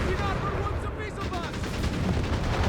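Rocket bombardment and gunfire fill a Company of Heroes 3 battle as 30 cm rockets hit a base. Dense rumbling blasts and rattling shots run throughout, and a caster's voice talks over the combat.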